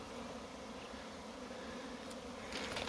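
A honeybee swarm massed on a tree branch, heard as a soft, steady, continuous buzzing hum at low level with no voices, faintly rising toward the end.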